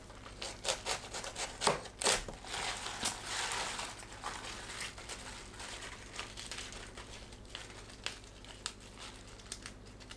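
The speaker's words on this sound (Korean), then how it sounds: "봄동 밑동을 손질합니다" A knife trims the base of a spring cabbage (bomdong), giving crisp, close cutting snaps and crinkly rustling of leaves, with a few sharper cracks early on before softer scraping and handling.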